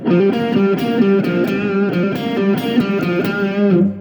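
A distorted electric guitar plays a quick riff of chunky, buzzing notes in a steady rhythm, loud and close with no voices.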